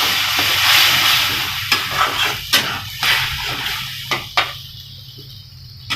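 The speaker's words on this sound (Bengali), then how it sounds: "এবার একটু নাড়াচাড়া করবো।" Butter paneer masala with cashew-melon seed paste is stirred in a hot pan, a loud continuous sizzle broken by several scraping spoon strokes, then settling into a quieter hiss.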